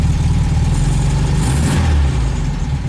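A Volkswagen Beetle air-cooled engine idles low and steady, a loud continuous rumble with slight uneven pulsing, no voices.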